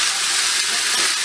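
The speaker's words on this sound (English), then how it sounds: "you're just going to saute the rice around for a while" Rice sautéing in a pan with onions and garlic gives a steady, close, broadband sizzle and hiss that runs the whole way through with no talking.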